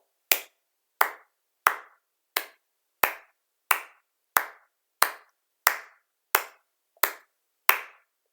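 Sharp, dry hand claps from a singing rehearsal, about a dozen evenly spaced beats at a steady tempo, close and clear with silence between each clap.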